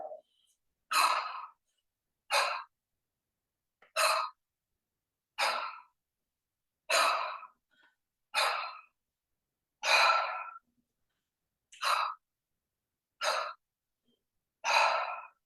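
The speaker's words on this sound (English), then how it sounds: "let's figure out how to breathe here for a second" Rhythmic breathing during kettlebell lifting, about eleven sharp, forceful exhales coming every second and a half or so, close and clear, with silence between each breath.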